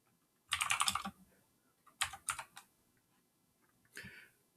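Quick bursts of typing on a computer keyboard as a firewall command is entered, three separate clusters of crisp key clicks with short pauses between, close and fairly quiet with no talking.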